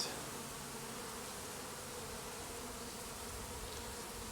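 A dense, continuous drone of honeybees from two hives cut out of a shed wall, a steady close swarm buzz with no voices.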